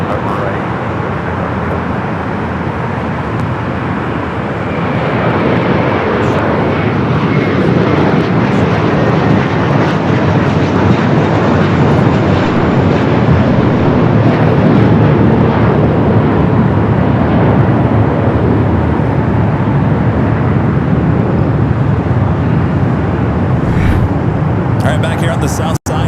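A SkyWest airliner takes off from LAX, its engines roaring as a steady, broad rumble that swells and holds loud for the whole stretch, with a faint voice briefly over it near the end.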